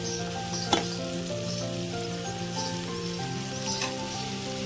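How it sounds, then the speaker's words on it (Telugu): Broad bean (chikkudukaya) curry with green chilli, cumin and garlic simmers on low heat in a pan, giving a steady, close sizzle with one brief clink of stirring. "కర్రీ మధ్య మధ్యలో కలుపుకున్నామండి, మాడకుండా సిమ్లోనే పెట్టి ఉడికిద్దాము"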